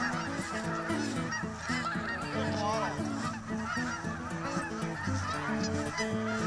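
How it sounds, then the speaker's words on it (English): A large flock of geese in a farm field honks continuously, many overlapping calls close and loud, forming a dense restless chorus with no talk. "We're approaching the field of geese."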